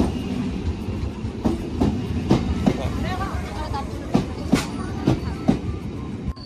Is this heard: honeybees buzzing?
no